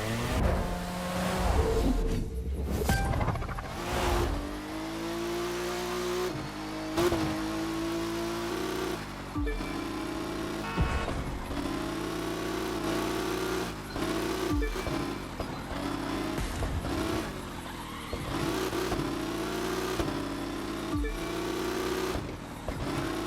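Touring car engine in The Crew 2 revving steadily for over twenty seconds, loud and continuous with repeated gear shifts and brief throttle lifts along a highway stretch.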